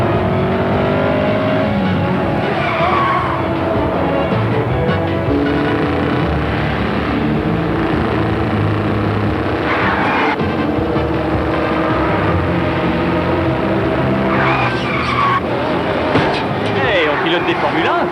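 Cartoon Formula 1 race cars roar along continuously with loud engine drone and revving, joined by bursts of tire noise, under steady mixed background sound with no clear talking.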